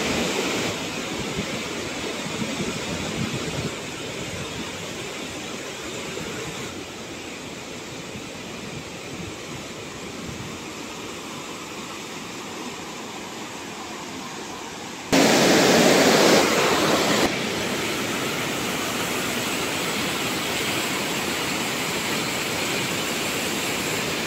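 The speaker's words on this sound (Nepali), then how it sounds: "So you can hear the sound of the river very loud and clear." A loud mountain river rushes through Langtang Valley on a Himalayan trek in Nepal, a steady, dense roar that stays constant throughout, briefly swelling louder near the middle, with no voices.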